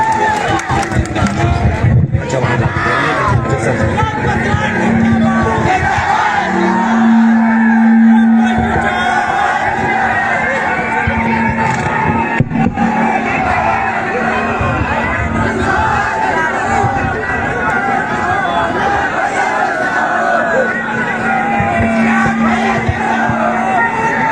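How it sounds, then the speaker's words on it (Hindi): A large crowd at a Bihar by-election political rally for the Chief Minister claps and cheers loudly and continuously, with shouts and a dense babble of voices filling the whole stretch. "दोनों हाथ ऊपर उठाकर जोरदार ताली बजाइए"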